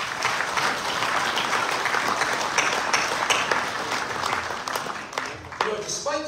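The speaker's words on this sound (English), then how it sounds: "Round of applause for all of you." Continuous, dense applause from the audience at the opening session of a Knights of Columbus California state annual meeting holds steady throughout, thinning slightly toward the end as individual claps stand out.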